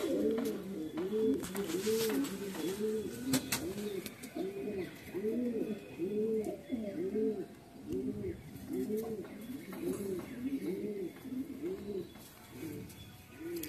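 Pigeons coo continuously in a rhythmic, repeating series of low, rolling calls, close and moderately loud, with faint background noise and occasional soft rustles.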